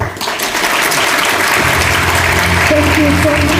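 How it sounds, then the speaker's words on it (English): An audience at a ceremony marking the tenth anniversary of the World Bank's Korea office breaks into loud, sustained applause, with a voice speaking over the clapping toward the end. "Please give a big round of applause one more time."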